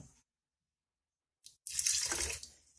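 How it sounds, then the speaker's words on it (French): Water runs from a kitchen tap in a short splashing burst after a near-silent pause, poured into Moroccan sfenj doughnut dough to loosen the batter; no talking. "Donc, on va remettre un peu d'eau."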